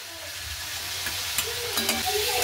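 Fried potatoes and figs (dumur) sizzling steadily in oil while being stir-fried, with scraping and stirring taps growing a little louder toward the end; no talking.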